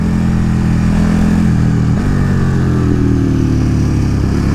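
A KTM 1290 Super Duke motorcycle engine drones loud and close while riding, a steady low rumble holding throughout with a brief shift dip midway, no voices.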